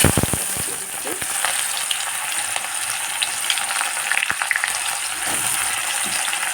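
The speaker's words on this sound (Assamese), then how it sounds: "এতিয়া মই ইয়াত পিঁয়াজখিনি দি দিম" Onions hiss and crackle in hot oil over a low gas flame for a chicken dish, a loud continuous close sizzle with occasional sharp pops and spatula clicks, no voices.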